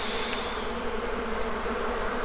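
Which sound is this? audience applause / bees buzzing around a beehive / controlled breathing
bees buzzing around a beehive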